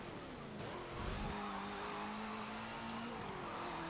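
A high-revving engine from a 1970s Corvette-based race car in Forza Motorsport 7, holding a steady whine with slight pitch shifts, faint under a wash of road and tire noise.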